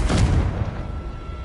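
Loud explosive spell blast from a video game on PS4, a single booming burst with a short rumbling decay, alone with no voices.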